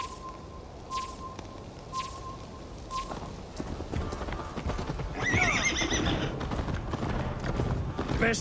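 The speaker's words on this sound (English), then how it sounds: "Best not fall off your horse." Rhythmic hoofbeats pound along with a horse whinnying partway through in Assassin's Creed Valhalla, mixed with game effects and background voices.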